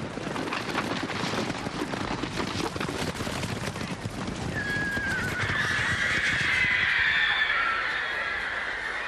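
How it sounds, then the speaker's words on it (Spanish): A horse at the 1913 Derby race gives a long, loud, high whinny partway through, rising over a dense, rumbling crowd-and-hoof din that carries on around it. "una manifestante, Emily Wilding Davidson, se introdujo en la pista de carreras para bloquear al caballo del rey."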